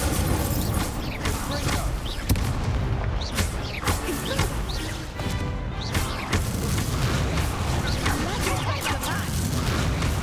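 Incendio fire spells cast in Hogwarts Legacy, repeated whooshing bursts and booming impacts amid dense combat noise, steady and loud throughout.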